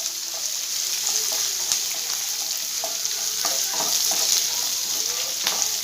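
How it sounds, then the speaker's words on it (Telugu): One large onion frying in a pan, a loud, steady, close sizzle with light stirring clicks and scrapes throughout, no talking. "ఆనియన్స్ అయితే కొంచెం ఫ్రై అయ్యాయి కదండి"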